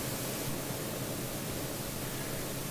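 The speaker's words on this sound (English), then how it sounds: "it's made out of white noise, but it's not one of your brighter dithers" White noise dither on low-bit audio gives a faint, steady, broadband hiss that stays even and unchanging throughout, with nothing else heard.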